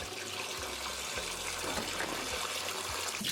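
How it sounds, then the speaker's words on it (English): Rinse water from freshly cleaned mackerel drains steadily away in a continuous, close gushing rush, like a running tap, with no talking. "So I'm just going to let it drain now."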